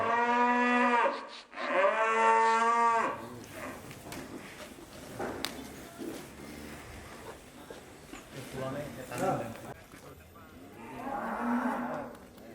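Cattle moo loudly in a farm pen, two long drawn-out calls at the start and a softer one near the end, with someone talking in Indonesian in between.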